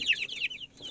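Rhode Island Red chickens clucking nearby, a quick run of bright, chattering calls followed by a short pause and a softer cluck.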